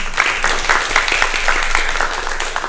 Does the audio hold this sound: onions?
no